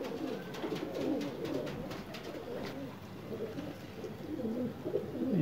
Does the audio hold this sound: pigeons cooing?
yes